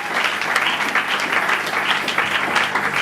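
A church congregation applauding steadily, a dense, even patter of many hands clapping together that holds at a constant level without voices.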